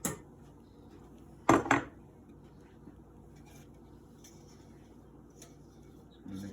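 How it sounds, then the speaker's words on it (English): A spatula scraping brownie batter around a mixing bowl: a quiet short scrape at the start, one loud clattering scrape in the middle, and a soft scrape at the end, with quiet gaps between. "I think I'm going to scrape one more time"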